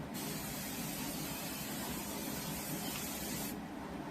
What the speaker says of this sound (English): we're gonna grease our dish